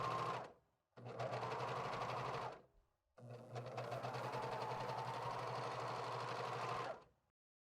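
A serger trims the raw hem edge of a T-shirt, its motor whirring loudly in two steady runs, a short burst and then a longer stretch, broken by a brief pause.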